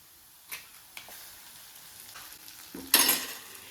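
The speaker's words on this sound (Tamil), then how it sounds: "இதில் அப்படியே முட்டையை உடச்சி ஊற்ற வேண்டியதான்" An egg is cracked and poured into hot oil in a pan for an onion egg stir-fry. After a few faint clicks and taps, a short, bright sizzle flares up near the end and fades slightly.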